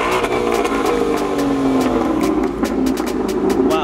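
A Roush Mustang GT engine revs hard and steadily up close, its deep growl rising and falling in pitch as the throttle is worked, loud throughout.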